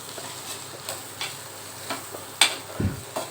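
Grated plantain is stirred and tossed in a pan, with intermittent scraping clicks and knocks of a utensil against the pan over a faint sizzle, close and fairly quiet, with no talking.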